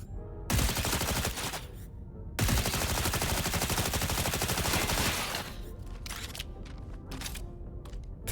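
SMG fire in Cyberpunk 2077 Phantom Liberty, two long rapid automatic bursts, loud and close, followed by lighter mechanical clicks and reload clatter.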